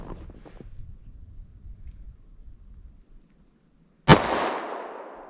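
A single sharp 9mm +P hollow point pistol shot from a 3.2-inch barrel cracks out loud and close after a few seconds of quiet outdoor wind rumble, its echo trailing off.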